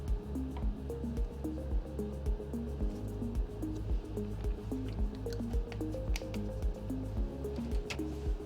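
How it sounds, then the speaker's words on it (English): Small drips and squishy clicks of liquid being pipetted into labelled microfuge tubes in a lab, repeating in a steady rhythm, close and fairly quiet. "transfer 2 ml of these solutions to labelled microfuge tubes."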